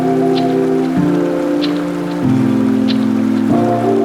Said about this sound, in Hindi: बारिश इतनी तेज़ हो गई कि हमें तुरंत एक स्कूल के अंदर रुकना पड़ा